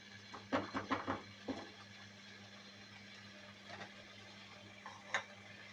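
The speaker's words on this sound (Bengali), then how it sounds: "ভালোভাবে আমি নেড়ে চেড়ে দিচ্ছি এটা সব কিছু মিশে একসঙ্গে সবজির সঙ্গে মশলা হলুদের গুঁড়া সব মিশে দিলাম" A spoon stirring puti fish curry with vegetables, spices and turmeric in a pan, heard as a few faint clustered scrapes and taps over a low steady hum, with a lone tap later.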